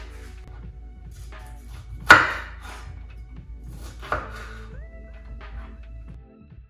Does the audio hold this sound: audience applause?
no